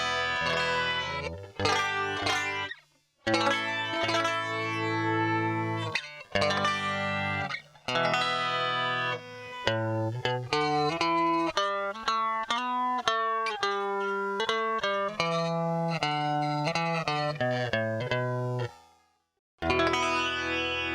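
A rare Canadian guitar effects pedal, turned up to halfway, colors a distorted, shimmering electric guitar played as strummed chords and melodic runs, loud and close with a brief pause near the end.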